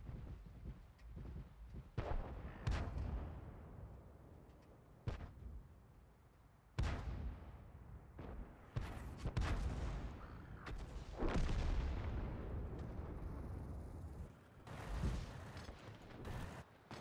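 Heavy artillery shells slam into tanks in World of Tanks, a string of booming blasts spread across the stretch, some sharp and close, others rumbling with long decaying tails, no talking.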